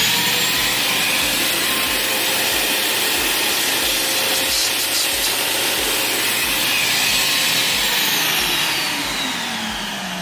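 A powerful garage vacuum cleaner with a long hose, about 35 feet, runs steadily and loudly, a continuous broadband roar with airy whine that holds level throughout and eases slightly at the end.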